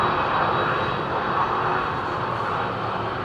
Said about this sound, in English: Delta 767. Looks like she's got CF6 engines.